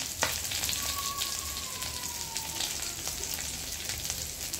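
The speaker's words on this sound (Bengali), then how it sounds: "আমার মাছের এই পাশটা প্রায় ভাজা হয়ে গেছে" Continuous close sizzling of tengra fish frying in a pan, a dense crackly hiss with scattered pops and a faint tonal whine drifting through the first half.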